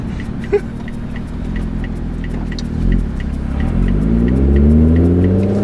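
An exotic car engine with a custom intake pulls hard, its tone climbing steadily in pitch and loudness as it accelerates through the gear, heard from inside the vehicle.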